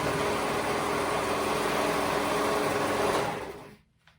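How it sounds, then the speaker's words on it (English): Sewing machine stitching the raw end of a cardigan with right sides folded together, a steady continuous whir that runs loud and even, then stops abruptly near the end. "I'm gonna fold it right sides together, and I'm gonna sew that raw end together."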